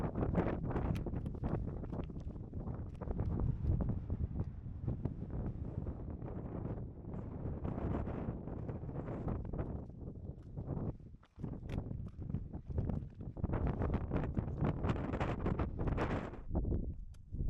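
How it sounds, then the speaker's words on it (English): Strong gusting wind on an exposed fell summit during a mountain hike roars and buffets the microphone continuously, swelling and easing with the gusts, loud and close with no talk. "Some massive gusts and almost blew me over."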